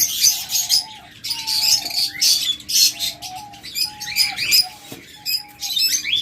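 Caged breeding pairs of pet birds chirp and tweet almost without pause, with rapid high twittering over repeated short whistled notes, close and fairly loud, with no talking.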